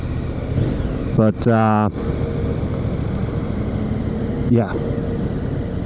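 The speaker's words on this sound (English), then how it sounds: "Hopefully you can hear the engine a bit" KTM 1290 Super Adventure S motorcycle with its stock exhaust, revving briefly with a rising engine note above a steady idle while someone talks over it.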